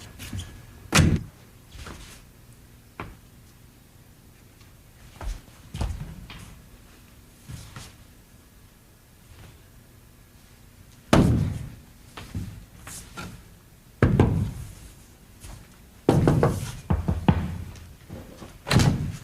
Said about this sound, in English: This is my door.